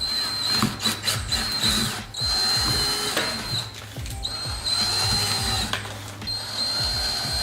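A power drill whines in bursts, its high motor pitch rising and falling as it bites through plastic on a VW GTI, loud and close with brief pauses.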